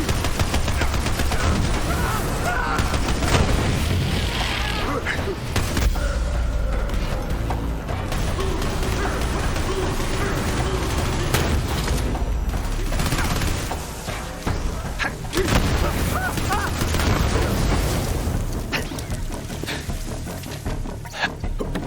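Continuous gunfire in the Borderlands 3 Guns, Love, and Tentacles DLC, rapid automatic bursts and loud shots rattling nonstop over sustained combat clatter, close and heavy throughout.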